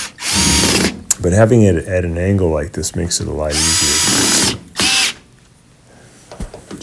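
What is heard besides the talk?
power drill driving screws into front loader washer panel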